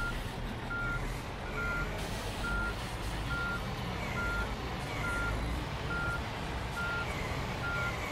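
A truck in a PS5 driving game reverses to park, its backup alarm beeping at a steady, evenly spaced rhythm over a constant low engine rumble, with no speech.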